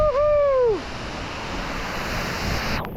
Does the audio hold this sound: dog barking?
no